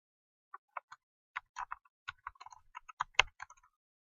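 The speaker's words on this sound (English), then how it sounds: "I'm going to type in Instant Rewards" Someone types on a computer keyboard, an irregular run of quiet, close key clicks lasting about three seconds, with no other sound.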